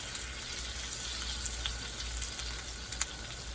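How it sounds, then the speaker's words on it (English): Garlic sautéing in a pan while it is stirred, giving a soft steady sizzle with a few light scrapes and taps near the end. "We're gonna stir it around, saute it until it's nice and golden"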